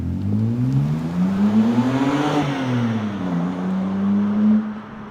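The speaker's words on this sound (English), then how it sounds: "But without the muffler, it gives it just a little bit more tone." A BMW E90 328i with its muffler removed and a Turner cold air intake fitted, the engine droning loudly and steadily, its tone climbing then easing back as the revs rise and fall, close up with no talk.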